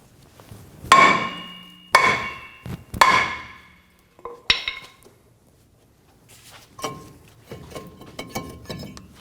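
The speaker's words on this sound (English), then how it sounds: "We're going to use a hammer to loosen the rust weld between the rotor and the hub." Three loud metallic hammer strikes on a rusted-on brake rotor of a Ram 2500 ring out about a second apart, followed by a fourth sharper blow and then softer scraping and clinking of metal parts.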